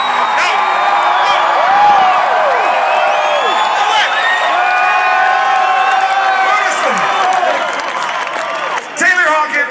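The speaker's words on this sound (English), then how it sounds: "Please stop cheering." Big crowd at a rock concert cheering, whooping and shouting continuously, loud and sustained, with a brief dip and renewed yells near the end.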